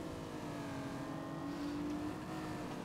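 A Lamborghini engine revs steadily in the City Car Driving video game, with a sustained, moderately loud droning tone and a brief rise in pitch partway through, no voices over it.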